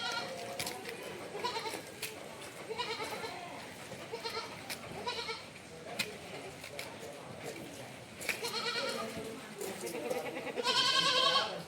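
Goats and young kids for sale at a livestock market in Kerala bleat repeatedly, near and fairly loud, mixed with a crowd of voices and people talking throughout.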